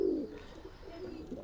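A male Bangladeshi local high-flying pigeon gives a short, soft coo at the start, followed by faint, low murmuring in a quiet coop.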